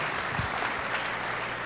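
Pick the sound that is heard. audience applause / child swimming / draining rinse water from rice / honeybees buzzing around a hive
audience applause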